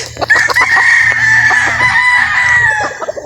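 A bolik rooster at a game farm crows once, a long, loud, drawn-out call held close to the listener, with soft clucking and farmyard noise around it.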